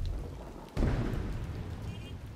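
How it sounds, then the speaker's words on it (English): Rain falls steadily in the Plants vs. Zombies 3 video game, and a sudden rumble of thunder breaks in partway through before settling back into a continuous wash of rainfall. "It's raining, okay."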